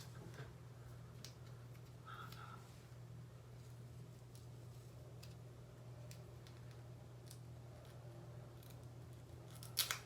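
Scissors cutting the lace edge of a synthetic front lace wig, faint scattered snips and ticks over a steady low hum, ending in a couple of slightly louder cuts.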